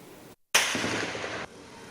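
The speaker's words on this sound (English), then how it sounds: "Night of rain of gunshots in Oka, Anambra State, Sunday 23rd May 2021." Gunfire at night in Oka, Anambra State: a single sudden loud blast cuts in, holds for about a second as a harsh roar, then drops back to a quiet background.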